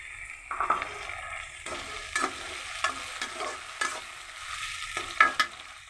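Ridge gourd and tomato go into cooking dal on the stove, with a quiet bubbling sizzle and repeated spoon scrapes and taps against the pot at an irregular pace, nearby and without speech.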